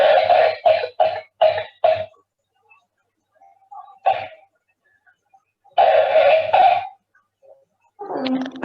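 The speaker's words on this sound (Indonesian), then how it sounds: "Ini adalah salah satu contoh batuk staccato ya." A child's staccato cough: bursts of short, sharp, separate coughs in quick series, then a lone cough, then another rapid cluster, close and loud with silent gaps between.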